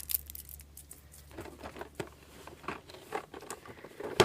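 Tape is peeled and scraped off a Nendoroid Homura Akemi Haregi Ver. figure box in quiet, close, irregular little rips and crinkles, faint and scattered over a few seconds.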